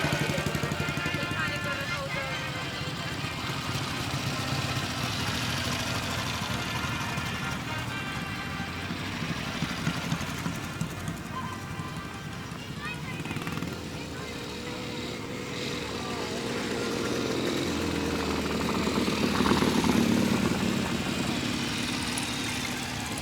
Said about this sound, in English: I'll just let you have a listen to these lovely old motorbikes when they go around.